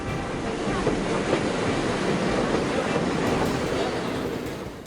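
A train rolls along the Konkan Railway, the line linking Mumbai with Mangalore through Maharashtra and Goa, a loud, dense, steady rumble and rush heard close, with heavy wind buffeting throughout.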